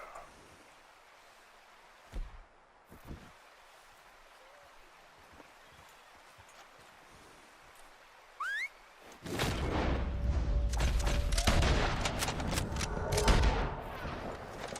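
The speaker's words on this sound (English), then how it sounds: "No, don't shoot him twice." Gunshots ring out in a hunting video game, a couple of sharp reports early on, followed by a steady rush of ambient outdoor noise such as water or wind.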